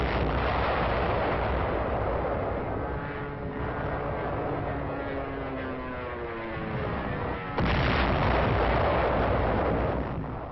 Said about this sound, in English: The tank of the 2nd Armored Division opens fire.